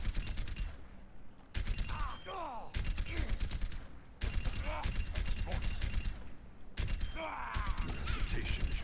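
In an Overwatch match, gunfire comes in rapid sustained volleys broken by brief gaps. Clicking weapon mechanisms and whooshing effects sit around the shots.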